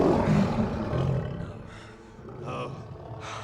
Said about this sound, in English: That'll be a black lion then, sir.